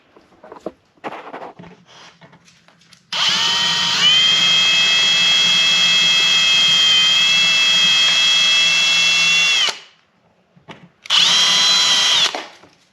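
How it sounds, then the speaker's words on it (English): A loud, high-pitched power drill whines steadily for several seconds drilling holes in metal for C3 Corvette window parts, stops, then runs again briefly, close by, with quiet handling noises between. "mark them, and drill the new holes"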